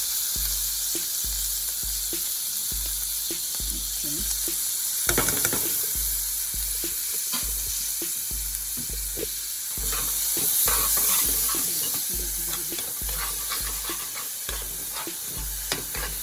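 Homemade sofrito fries in a pan for arroz con salchicha, a loud continuous close-up sizzle with spattering crackles and occasional stirring scrapes throughout.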